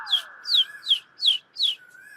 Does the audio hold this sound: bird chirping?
yes